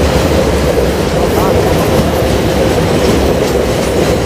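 A train rumbles steadily along the rails through hilly country near Tumiyang, a loud continuous roar with faint clattering, heard from close by or from on board.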